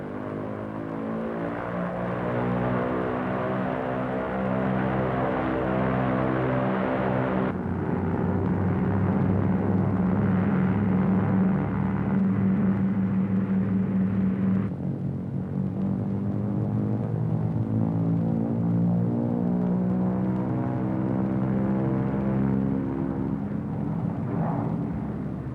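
Twin engines of a WWII P-38 Lightning fighter run up on the ground as the throttles are advanced toward maximum manifold pressure. A steady harmonic drone steps up in pitch and intensity twice, with no one speaking.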